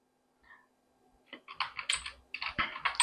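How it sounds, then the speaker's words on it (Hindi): Computer keyboard typing while entering a ledger name in Tally Prime accounting software: a quick run of close, crisp key clicks in irregular bursts, following a couple of faint taps, with no talking. "लेजर में इंटर करेंगे और फिर यहाँ पे लिखेंगे शिवम"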